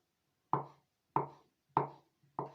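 A knife chops Napa cabbage into large pieces on a board, four sharp, evenly spaced strikes about half a second apart, each with a short ringing tail, close and clear with no talk.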